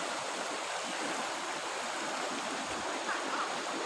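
Floodwater rushes through a river after a destructive flood, a dense, continuous roar of churning water heard up close with no pauses.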